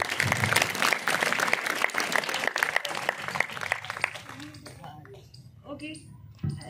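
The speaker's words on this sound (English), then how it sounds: "a big round of applause for all the participants" An audience at a school speech competition applauds the participants, dense clapping for several seconds that thins out into scattered claps and a few voices near the end.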